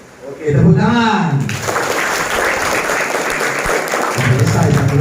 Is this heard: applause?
yes